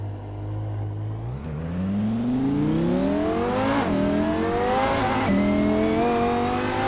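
A Lamborghini Huracan on road tires with traction control off races around Laguna Seca in Assetto Corsa, its engine note climbing steadily through the gears with sharp shift dips, loud and close with no talk.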